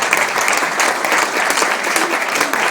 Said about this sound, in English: How about one more round of applause for you?